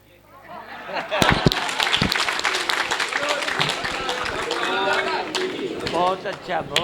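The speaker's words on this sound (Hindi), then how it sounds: "तेरे लिए ताली बजाओ" Applause from a gathered group at a spiritual retreat festival, with loud, dense clapping that swells quickly and carries on throughout, mixed with crowd voices and talk.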